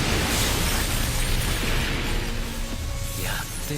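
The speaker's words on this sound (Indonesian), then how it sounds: "Diiringi tendangan ke arah layar game di sebelah Hobin dan duar." A kick smashes into an arcade game screen in an anime fight scene, a loud explosive crash with a shattering burst that rings out and fades near the end.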